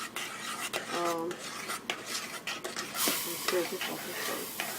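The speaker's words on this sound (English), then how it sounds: "I'm going to stir it a little bit more" A spoon stirs thickening banana pudding in a cooking pot, scraping and clinking softly against the metal in an uneven rhythm, fairly quiet and close, with a voice talking over it at times.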